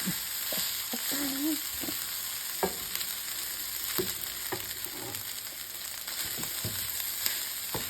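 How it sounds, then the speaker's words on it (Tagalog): Ham fried rice with green onions is stir-fried in a pan, giving a steady sizzle throughout with scattered scraping and clinking spatula strokes close by. "once I already stir fry"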